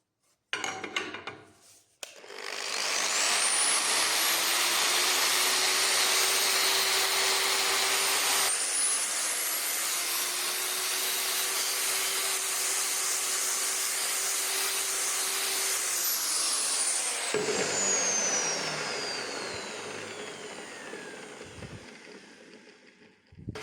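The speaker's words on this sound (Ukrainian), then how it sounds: "Тепер зачищаємо щіткою по металу." A loud power tool with a wire brush cleaning a metal axe head whirs up to a steady high whine and grinds continuously for about fifteen seconds, then winds down, with no talking.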